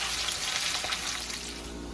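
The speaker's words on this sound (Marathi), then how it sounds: "तेल तापलेलं आहे, यामध्ये मी अर्धा कांदा घालतेय" Half an onion fries in hot oil with a loud, even sizzle and crackle that runs unbroken and close up.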